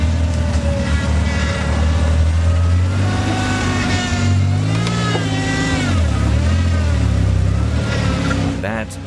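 A 4x4 vehicle's engine revs hard and loud as it struggles on an off-road obstacle at a national 4x4 challenge in Rustenburg, pitch rising and falling repeatedly throughout.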